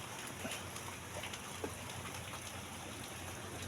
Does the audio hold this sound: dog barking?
no